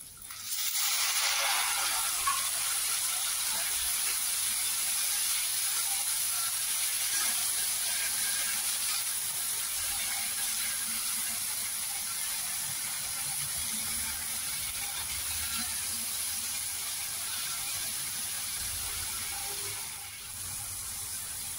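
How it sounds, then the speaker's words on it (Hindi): Chopped tomatoes frying in a pan with onion and garlic, giving a steady, close hiss and sizzle that holds at an even level throughout without talk. "जब तक हमारे टमाटर भुनते हैं"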